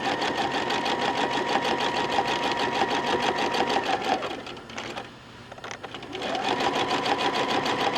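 A sewing machine stitches steadily while free motion quilting a log cabin block, a fast mechanical chatter that pauses briefly midway and then resumes at the same pace, close and clear.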